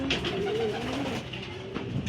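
Racing pigeons cooing as they arrive at the loft after a race lap, a few soft close coos with wing flutters and no talking.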